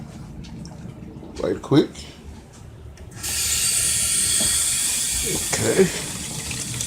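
Tap water gushes into a ZENY portable mini compact twin tub washing machine, a steady close hiss that starts partway through after a few handling knocks, with someone talking briefly over it.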